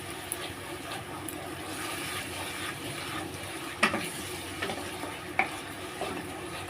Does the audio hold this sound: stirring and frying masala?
yes